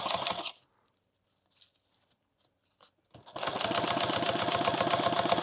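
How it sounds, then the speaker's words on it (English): Sewing machine chain stitching a leather pouch: a short burst of rapid mechanical stitching, a near-silent pause with a few faint clicks, then a longer, steady, close-up run of fast rhythmic stitching. "I'm going to sew right into here"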